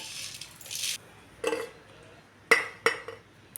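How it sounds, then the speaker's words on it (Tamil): Unpeeled garlic cloves crushed with a hard tool, giving several sharp separate knocks and clinks with a brief crunching burst at the start, close and fairly loud. "நான் தோலோடு நசுக்கி போட்டுக்கிறேன்."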